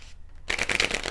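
A tarot deck shuffled by hand: quiet pause, then a dense, crisp burst of riffling card flutter up close, with no speech.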